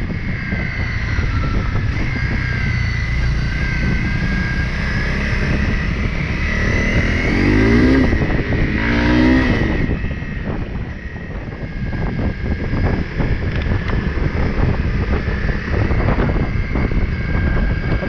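Dual-sport motorcycles, a Honda CRF Rally, a Suzuki DR250 and a Kawasaki KLR250, ride a washboard gravel road through New Zealand high country, with a loud steady engine drone, constant wind buffeting on the microphone and rattling chatter from the rough surface.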